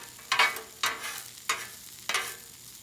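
Hibachi chicken fried rice sizzles on a Blackstone griddle as a spatula makes four scraping sweeps at a steady pace, close and fairly loud, with no talking.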